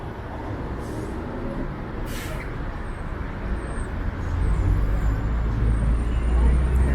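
City bus on a busy urban route, a steady low engine rumble and road roar that swells louder midway, with a brief hiss of air brakes and traffic noise around it.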